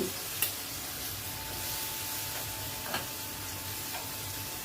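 Banana slices packed into a frying pan sizzle with a steady, moderate hiss close by, marked by a few soft ticks and taps.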